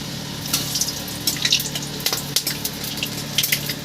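Dried chillies, bay leaves and garam masala frying in hot oil give a steady close sizzle, with scattered sharp pops and crackles across the whole stretch and no voices.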